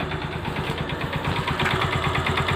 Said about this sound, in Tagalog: Oh, wala nang kaingay-ingay yung makina niya.